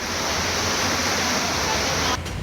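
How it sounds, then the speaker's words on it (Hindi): Swollen floodwater from a river in spate rushes loudly in a continuous, dense roar that fills the whole clip without pause. "उफान पर नदी की लहरें"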